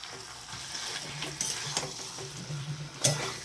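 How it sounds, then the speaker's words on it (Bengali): Cauliflower, potato and prawn curry being sautéed with sauce in a pan, a soft continuous sizzle under intermittent spatula scrapes and light clinks of utensil against the pan, close by and without any talking. "সস দিয়ে হালকা কষে নেবো বেশি কষবো না কারণ সসটা পুড়ে যাবে"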